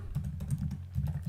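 Fingers typing a Terraform command on a computer keyboard, a rapid close run of key clicks with a soft, even rhythm.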